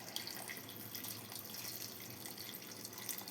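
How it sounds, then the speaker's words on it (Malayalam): Water pours from a vessel over cut tapioca in a pot for Kerala-style paal kappa, a steady, soft splashing stream that runs without pause. "ഇനി നമുക്ക് കപ്പയിലോട്ട് വെള്ളം ഒഴിച്ചു കൊടുക്കണം"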